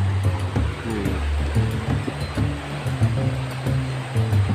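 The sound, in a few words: waterfall flowing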